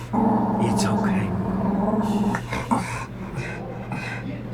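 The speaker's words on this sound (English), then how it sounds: "She's a tiny terrier." A small terrier whimpers and growls in short bursts, close by, while a person keeps talking over it and a steady hum sits underneath.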